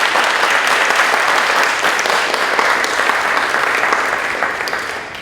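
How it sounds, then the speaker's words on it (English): Honor society inductees at an induction ceremony receive a room's sustained, loud applause that slowly tapers toward the end. "A round of applause for these inductees."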